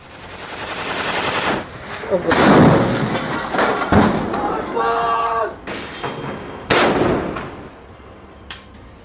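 Gunfire and explosions from an RPG and tandem shell attack on infantry inside a house, with bursts of rapid fire and several sharp blasts over a rumbling background.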